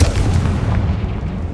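A Confringo fire spell blasts off in the Hogwarts Legacy video game on PS5, a loud, booming explosive burst that rumbles heavily and sustains briefly before fading.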